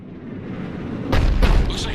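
A Cerberus cannon firing in Mass Effect, a rising low rumble that breaks into two heavy booming blasts close together, loud and full-bodied.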